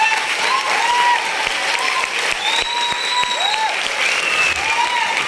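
An audience at a speech claps steadily in a hall, a continuous ripple of many hands, moderately loud, with a few sharp individual claps standing out and faint voices mixed in.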